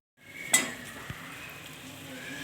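Besan flour roasting in ghee in a pan for Mysore pak, with a sharp utensil clink against the pan early on, a duller knock a moment later, and a steady low sizzle underneath throughout.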